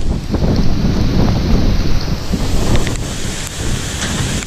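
Heavy sea surf whipped up by a powerful typhoon crashes and churns continuously while strong wind buffets the microphone, creating a loud, rough roar.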